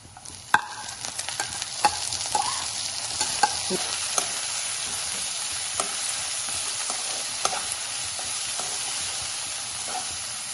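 Onions sizzling steadily in a pan for spinach Maggi, with frequent scraping stirs of a spoon scattered across the clip and a constant hiss underneath, close and moderately loud, no talking.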